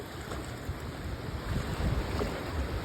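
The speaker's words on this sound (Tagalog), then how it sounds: "Oh no, there's a big wave! Be careful! Be careful with the waves!" Ocean waves wash onto a beach in a loud, continuous roar with swelling surges and wind buffeting the microphone, no voices heard.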